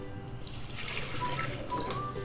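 Water is poured into a container over ice cubes and cucumber lemonade ingredients, a steady close splashing and trickling with faint clinks, with no talk.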